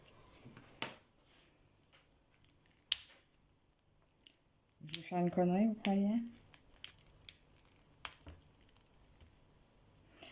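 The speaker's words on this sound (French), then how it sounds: "J'ai pris une petite pointe de ciseaux pour l'ouvrir." A scissors point pries at a plastic battery compartment, giving a few sharp isolated clicks and snaps, quiet and close, with a short stretch of a person speaking in the middle.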